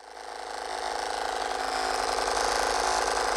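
A massage gun's steady motorized buzz hums and rattles continuously, growing slightly louder, running close by with no voices.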